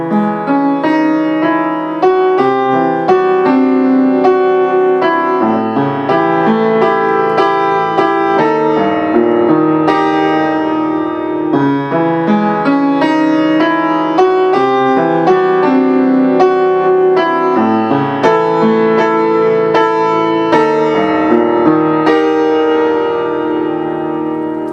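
A piano plays a chord part slowly, with rich sustained chords and a steady left-hand pattern that rings continuously for about 25 seconds, solo with no voices.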